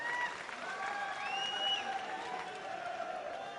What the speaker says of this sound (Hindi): अरे ताली जरा जोर से ठोको